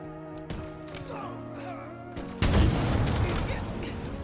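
Launcher explosions in Halo Infinite multiplayer gameplay: game sounds and music, then a loud blast at about two and a half seconds that rumbles and crackles to the end, with a voice talking.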